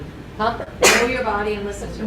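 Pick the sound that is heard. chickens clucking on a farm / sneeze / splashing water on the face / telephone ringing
sneeze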